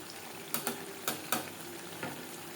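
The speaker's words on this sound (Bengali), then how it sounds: "ধনে পাতা ও গরম মশলা পাউডার মাছের তেলের সাথে বেশ ভালো করে মিক্সড করে দেবো" Bhetki fish pieces stirred with chopped coriander and garam masala in hot oil, a soft low sizzle with several distinct scraping strokes of a spatula, quiet and close.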